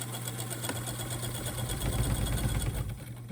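Kingston Deluxe sewing machine stitching on a lightweight table, a close, steady mechanical whir with fast rhythmic needle clatter that grows a little louder partway through.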